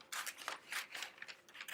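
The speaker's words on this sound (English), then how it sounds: "I'm gonna use the scissors today" Fabric scissors cutting out appliqué pieces, a quiet series of crisp snipping and rasping strokes in a steady, fairly quick rhythm, up close with no talk.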